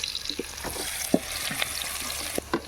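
Garlic and ginger frying in oil for village-style chicken Manchurian, a steady close sizzle with scattered crackles and pops and occasional stirring scrapes, with no talk.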